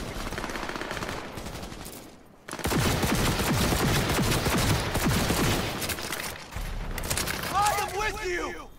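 Rapid automatic gunfire from a gun in Cyberpunk 2077, dense bursts of shots that start after a short lull and run loud and continuous for several seconds before easing off.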